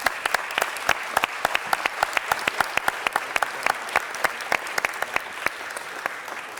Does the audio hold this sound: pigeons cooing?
no